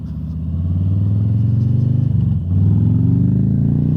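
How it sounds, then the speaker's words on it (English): A 2020 Harley-Davidson Softail Low Rider S motorcycle's exhaust rumbles deeply and steadily as the throttle is worked, with a brief dip and then a rise in revs, loud and close. "cranking that throttle, and you get all of that exhaust noise"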